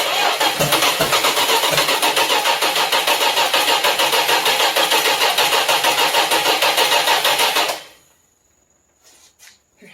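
Chrysler Slant Six engine starting for the first time, a loud steady cranking churn for about eight seconds that then stops, followed by a few faint clicks and knocks, with no talk.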